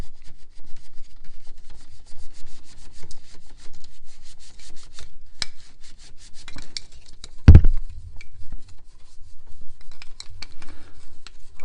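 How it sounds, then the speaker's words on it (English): A brush scrubs a car's interior corner soaked with interior cleaner, giving steady close rubbing strokes throughout with one sharp knock partway through. "Take the brush and just really work that corner again."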